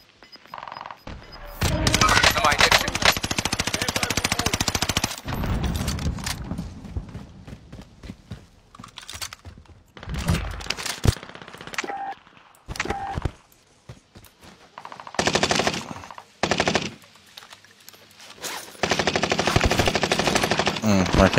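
Bursts of machine-gun fire in the Call of Duty: Warzone video game, arriving in several loud sustained volleys separated by gaps, with quieter stretches between them.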